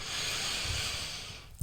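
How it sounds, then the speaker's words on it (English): A slow, deep inhale drawn in through the nose during a guided breathing exercise, a close, steady airy hiss lasting over a second before a faint rustle at the end. "So let's start with a deep breathing through the nose"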